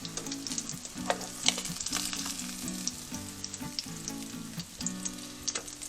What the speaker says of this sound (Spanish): Ya estamos terminando con la fritura de los filetes.